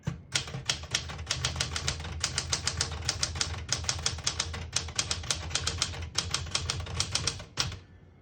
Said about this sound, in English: When you type it on it, it feels like it's brand new.